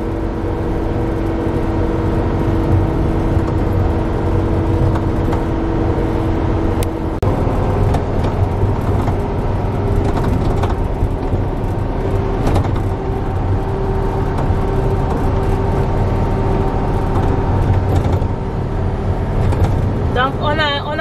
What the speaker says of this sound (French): Et nous on est en train de conduire le truck.